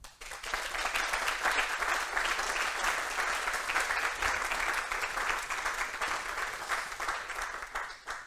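Steady applause from an audience at a business open-day event, many hands clapping evenly after a brief lead-in, holding at a moderate level and easing off near the end.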